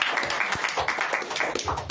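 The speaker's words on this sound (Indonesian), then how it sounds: "Kasih tepuk tangan bagi Tuhan" A church congregation at a Sunday service in Sukabumi claps together in a dense, steady patter for about two seconds, with scattered sharper claps in the mix.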